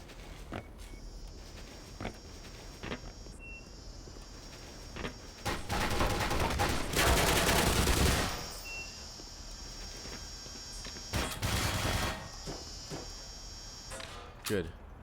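Turret fire in a Star Wars video game: loud bursts of rapid shots, heaviest in a sustained stretch midway and another burst later, with quieter gaps and talk around them.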